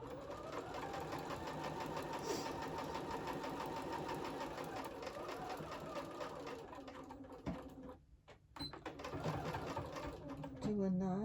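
Sewing machine running steadily as it top stitches an eighth-inch seam along the edge of a fabric wallet pocket, a continuous near whirring with a short pause and restart near the end.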